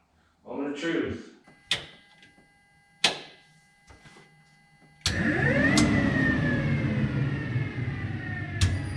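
A newly wired vehicle engine starts: after short clunks and clicks, it cranks and catches at about five seconds, then settles into a loud, steady running idle with a sharp click near the end.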